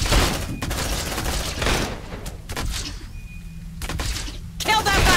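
Gunfire in Aliens: Dark Descent, rapid sustained bursts of automatic fire with booms and thuds, broken by short gaps, with voices shouting in between.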